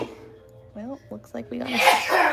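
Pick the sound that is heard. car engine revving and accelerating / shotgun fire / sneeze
sneeze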